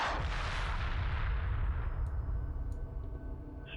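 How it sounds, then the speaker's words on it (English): Ship weapons fire in the space strategy game Homeworld Remastered, heavy booming blasts with metallic clangs rolling continuously and fading slightly over a few seconds, no talk. "I don't know why he's still shooting"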